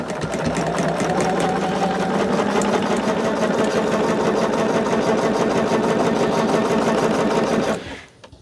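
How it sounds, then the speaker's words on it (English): A domestic sewing machine stitching quilt fabric in one long, continuous, rapid mechanical whir that stays steady and loud up close, then stops abruptly near the end. "we're going to sew these from top left to bottom right on the diagonal"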